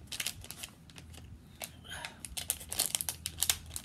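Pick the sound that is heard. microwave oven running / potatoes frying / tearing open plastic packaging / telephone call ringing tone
tearing open plastic packaging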